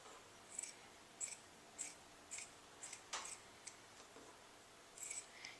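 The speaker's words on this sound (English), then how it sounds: "basically, you're just cutting" Scissors cut a t-shirt into strips in a quiet room, giving a series of faint, crisp snips at a steady rhythm, about one every half second, close by with no talk.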